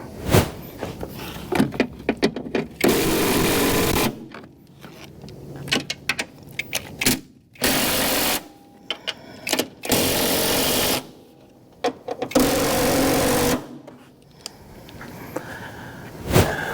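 Bolts on the cowl panel of a 2018 Mazda 6 are run tight with a power tool, which fires in several short, loud buzzing bursts separated by gaps with faint clicks and handling sounds.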